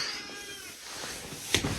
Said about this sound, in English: I can hear the cat. He just got in.